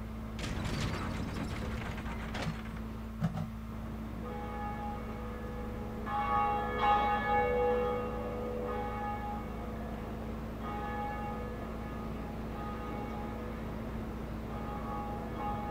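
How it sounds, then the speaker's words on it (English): A large bell in the Dark Souls video game rings with a clanking mechanism first, then clear sustained tones that swell and fade slowly, resonating over a constant low hum for many seconds. "go up here and ring this bell"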